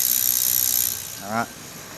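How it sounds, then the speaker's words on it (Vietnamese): The 5-speed rear hub on a Japanese-market Bridgestone Albelt bicycle is spun, giving a fast, continuous ratchet buzz for about a second before it fades and a short voice cuts in. "Con này là 5 số ha, đùm 5 số DJ Kuro để mình quay để nghe tiếng đùm cho anh em nghe thử nha"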